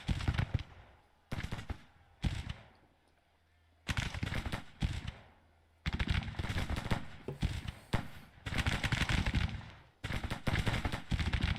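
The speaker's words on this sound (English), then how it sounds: "Our guns they are firing on their artillery." Artillery guns fire in the Civil War strategy game Grand Tactician during a Gettysburg battle, loud broadband bursts in irregular clusters separated by brief quiet gaps.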